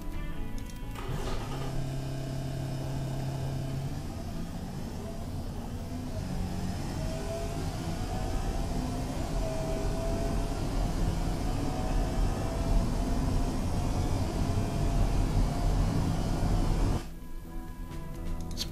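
Simulated Honda CRX 1.6 VTEC four-cylinder engine in the game Automation, revving steadily through a long acceleration run, a loud, continuous drone with rising pitch that cuts off near the end.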